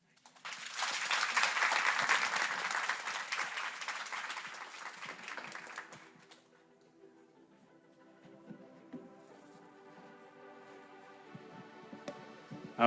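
Audience applause for participants at a university data conference presentation competition: a dense burst of clapping for about six seconds, then it fades into quieter room sound with faint tonal background.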